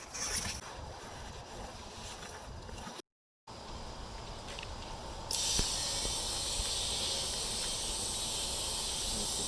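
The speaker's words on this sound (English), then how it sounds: "and then I'm going to start putting air in it." Steady broadband hiss of compressed air filling a tire mounted on a beadlock wheel, continuous and fairly close, with a brief dropout early on and a louder, brighter hiss for the second half.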